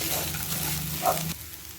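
Cooked rice is stirred into a frying gooseberry mixture in a pan, a soft close sizzle with a brief scrape of a spoon before the sound drops away.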